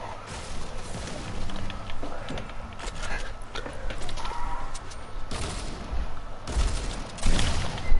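Gunfire in the Fortnite video game, including a purple pump shotgun, comes as a burst of sharp repeated shots and booms that build louder toward the end, with a voice faintly present under the game noise.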